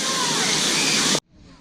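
Water jets at a water park spraying in a loud, steady hiss that cuts off abruptly, leaving faint background noise.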